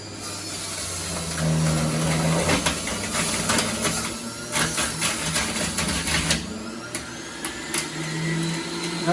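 A Breville Juice Fountain Elite juicer whirs steadily while juicing celery, a loud motor drone with grinding, crunchy bursts as stalks are pushed through, close up with no talking.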